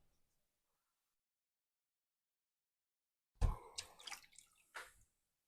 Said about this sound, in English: put some fresh cold water in here because this water's getting pretty warm